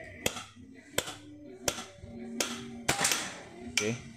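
A PCP air rifle fires during a target accuracy test, giving six sharp, close cracks about half a second to one second apart, with faint voices and handling noise between the shots.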